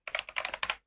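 A terminal command is typed on a computer keyboard, about ten quick, close keystrokes in a rapid burst, ending with one sharper final key press.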